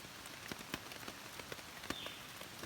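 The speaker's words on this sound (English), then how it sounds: "Alright, current situation, it's decided to rain." Rain falls on a camping tarp in the Great Smoky Mountains, a steady soft patter with scattered louder drops tapping irregularly, close and continuous.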